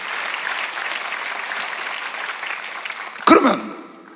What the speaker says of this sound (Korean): 지금 믿는 사람만 박수 한번 쳐보세요.